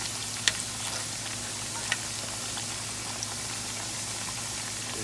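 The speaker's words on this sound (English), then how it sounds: "I'm gonna fry them like potatoes." Plantains deep frying in hot oil for tostones give a steady, even sizzle with a few faint pops, close and moderately quiet, with no talking.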